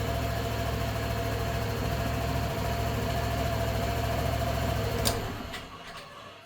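A Barton Xtrale 125 ABS motorcycle engine idles steadily and evenly up close with a smooth, continuous mechanical hum, then cuts off near the end.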